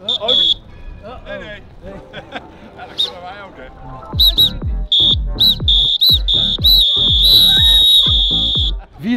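People compete to whistle the longest, and a high, piercing whistle is held for several seconds while voices chatter and shout close by.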